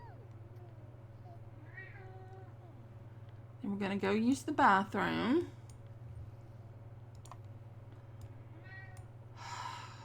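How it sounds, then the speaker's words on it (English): A pet cat meows briefly at close range in a home, a short burst of several rising and falling calls over a steady low hum, with a person talking before and after. "My cat's going to try to interrupt."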